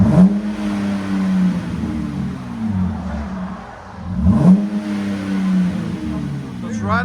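A 2022 RAM 1500 Bighorn's 3.6L V6 with a Borla ProXS exhaust revs twice in loud, deep surges that rise and fall, heard up close and steady between the swells.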